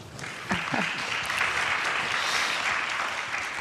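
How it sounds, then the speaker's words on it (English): An audience at a panel discussion on regulatory change applauds with steady, sustained clapping that fills the room at an even level throughout. "Give them a round of applause, please."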